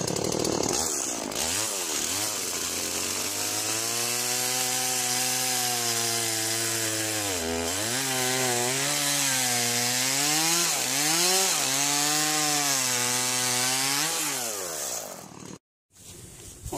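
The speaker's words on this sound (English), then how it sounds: "I was just making a horizontal cut on a log." A chainsaw makes a horizontal cut through a log on an off-grid log cabin building site, the engine loud and near, its pitch dipping and rising as the chain bites into the wood for over ten seconds before cutting off.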